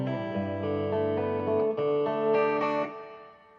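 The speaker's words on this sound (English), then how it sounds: "Hear that reverb trailing off there?" An acoustic-electric guitar run through a Boss acoustic instrument processor plays sustained chords with reverb, the tones ringing out and then fading away smoothly at the end.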